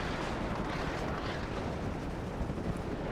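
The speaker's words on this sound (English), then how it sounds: "just some mortars going off, a little bit of shooting in the streets" Continuous dense rumble of distant mortars and scattered gunfire in city streets in WARNO, a steady broad wash of battle noise with no distinct single shots standing out and no talking.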